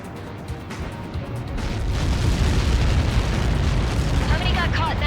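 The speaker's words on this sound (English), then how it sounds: "How many got caught in that explosion?" A huge in-game explosion from Ace Combat 7 mission Lighthouse, a Helios projectile impact, builds into a loud sustained rumbling roar that swells after two seconds, with a radio voice talking faintly over it.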